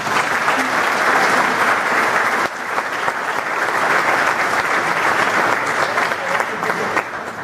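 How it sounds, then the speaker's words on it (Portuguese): A church congregation at a Projeto de Vida 2015 service bursts into sustained applause, dense clapping from many people filling the room at a steady loud level, with a brief dip partway through before it carries on. "se você entendeu, uma salva de palmas para Jesus."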